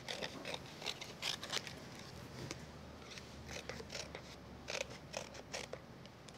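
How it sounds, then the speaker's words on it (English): Scissors snip repeatedly around the outer edge of a felt piece for a card, giving faint, close, irregular crisp cuts in quick bursts. "I'll see if I can take the extra bit off of this. Just trim around the outside here."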